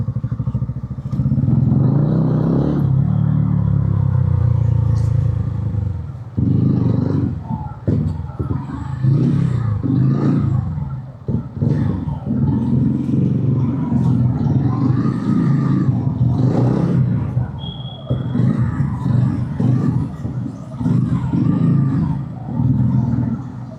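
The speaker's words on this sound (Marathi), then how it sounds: "आपल्याला गाडी लावायला लागेल लगेचच." A vehicle engine runs steadily while the car is being parked, a continuous loud rumble with clattering and brief revving throughout, and a few voices intermittently.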